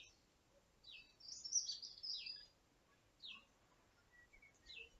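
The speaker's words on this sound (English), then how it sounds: "I swear there's more birds now that there's not so much noise" Scattered bird chirps and short high-pitched song phrases in a quiet outdoor setting, faint and intermittent with pauses between calls.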